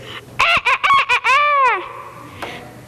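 A person on stage in a school musical vocally imitates a rooster crowing and chickens clucking: a rapid series of clucks, then a loud drawn-out crow, followed by a brief quieter squawk.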